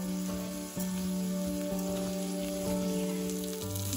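Rice sizzles steadily as it is stirred and fried in a pan, a close, continuous crackle layered over a constant electrical hum.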